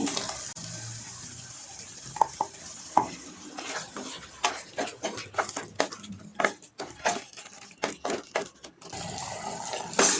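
Water splashes and pours into a pot of chicken curry amid clinks and scraping of a spoon, irregular bursts of stirring and sloshing close by.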